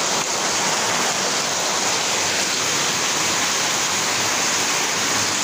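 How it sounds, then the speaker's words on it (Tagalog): Heavy rain pours down steadily in a dense, even hiss that fills the whole stretch, loud and unbroken, with no voices. "Lakas ng ulan"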